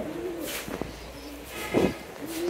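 Healthy pet pigeons kept in hot weather coo softly in low, rolling calls, a few separate phrases spread across a steady background hum.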